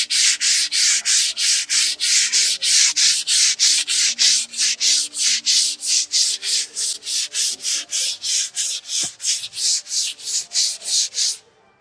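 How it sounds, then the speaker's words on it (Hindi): Wall putty being sanded by hand with 120-grit sandpaper during house painting, loud rhythmic back-and-forth rasping strokes repeating about three times a second for the whole stretch, close and alone. "अभी मैं सैंडिंग करूँगा तो आवाज़ आएगी"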